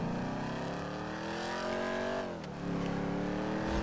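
Engine of a car driven in a video game, a continuous loud revving drone with rising pitch that dips briefly as the car shifts or slows, then surges again, alone without talk.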